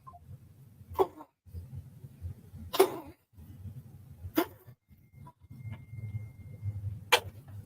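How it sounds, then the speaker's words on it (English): Several sharp, short sneezes burst out one after another at uneven intervals over a quiet, low indoor murmur. "That was a good sneeze."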